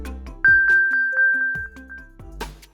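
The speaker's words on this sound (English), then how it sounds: "tap Play Sound, and you'll hear this chime" A bright, sustained chime from an Apple Watch Find My Play Sound alert, a clean tone holding steady for about two seconds with a quick series of soft pinging accents running beneath it.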